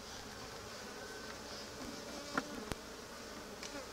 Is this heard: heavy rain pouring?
no